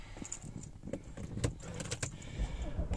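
Keys jangle briefly inside a 2005 Mercedes-Benz B180 CDI W245 diesel, a few light metallic clinks over low cabin rumble, close and moderately quiet with no talking.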